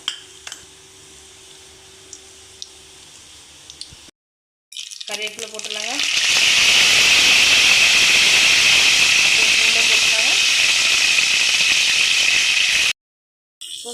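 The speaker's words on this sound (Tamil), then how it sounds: "கருவேப்பில பூண்டு போட்டுடலாம் கொஞ்சம் பொரியட்டோங்க" Curry leaves and garlic dropped into hot oil for a stingray fish curry, a sudden loud crackling hiss that settles into a steady, intense sizzle, with a voice heard briefly beforehand.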